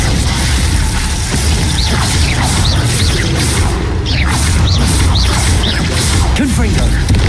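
Glacius ice spell effects in the Hogwarts Legacy video game, with whooshing casts, icy shattering and crashing impacts layered over loud, dense game combat noise and short chirping tones.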